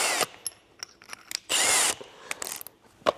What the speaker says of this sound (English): It's so much easier first with a small drill and then bigger drill.